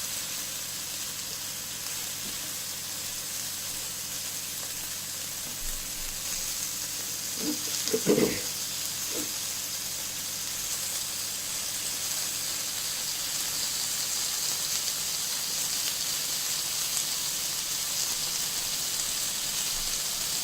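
Paneer tikka cubes sizzle steadily in a hot pan as they are turned onto each side to cook, a constant broad hiss with a brief clatter near the middle.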